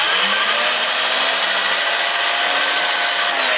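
Sandpaper pressed against a spinning spalted sweet gum bowl on a wood lathe gives a steady, loud, continuous hiss over a faint low motor hum, with no talking.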